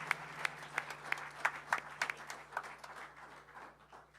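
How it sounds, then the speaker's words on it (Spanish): Scattered claps from a small church congregation, sparse and uneven rather than a full ovation, heard at a moderate distance over a steady low electrical hum. "un aplauso fuerte al Señor"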